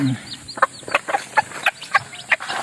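Eight newly hatched backyard chicks, one of them weak, make a series of close, rapid high peeps and cheeps, with a voice briefly heard at the very start.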